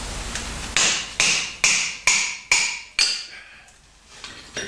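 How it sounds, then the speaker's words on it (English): Six sharp metallic hammer blows strike a Kawasaki motorcycle seat rail at a steady rhythm, each ringing briefly before the next strike, close by with no talking. "now I'm going to punish this with a hammer to extricate my seat rail."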